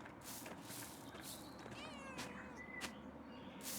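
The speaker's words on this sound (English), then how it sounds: "pet that cat" A house cat in the video game Pentiment meows several times when petted, with soft, short rising calls over a quiet ambient background.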